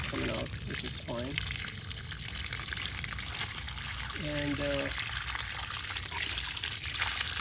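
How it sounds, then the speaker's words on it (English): Water leaking from a spa into a pool, a steady outdoor trickle and pour running continuously, with a voice speaking briefly over it. "We have some water coming out, which is fine."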